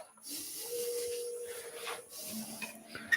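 A woodturning texturing tool lightly skims spinning wood on a lathe, giving a steady close rubbing hiss that lasts a few seconds and then tapers off.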